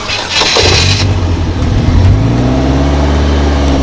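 A three-wheeled car is started with a key: a brief starter crank catches into a loud engine start, then settles into a steady, close, rumbling idle.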